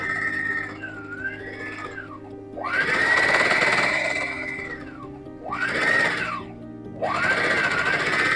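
A sewing machine stitches fabric at the corner of a buckram neckline facing, running in three bursts of motor whir with rising and falling whine, close and steady, with no talking.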